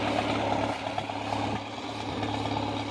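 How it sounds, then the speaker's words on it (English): An old tractor, freshly repaired and being readied for tractor shows, sits idling with a steady low, chugging engine rumble at moderate level, no voices. "Well, I got that tractor running good again."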